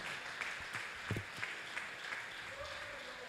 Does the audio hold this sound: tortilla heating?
no